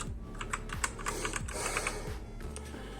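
Rapid key presses on a MACHENIKE K500 mechanical gaming keyboard, a steady run of close, crisp clicks and clacks with no voice over them.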